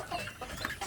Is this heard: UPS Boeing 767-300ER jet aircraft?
no